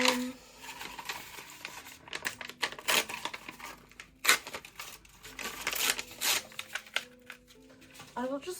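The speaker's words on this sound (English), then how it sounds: "paper noises, so I hope you're okay with that" Craft paper handled on a desk crinkles and rustles in close, uneven bursts, with quieter gaps between handlings and soft talk at times.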